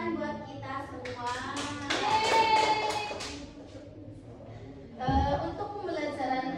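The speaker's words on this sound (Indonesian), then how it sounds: "Tepuk tangan buat kita semua." A class of eighth-grade students in an Islamic ethics lesson clap together in a crisp, rhythmic pattern. Children's voices chant and cheer over the claps, nearby and fairly lively.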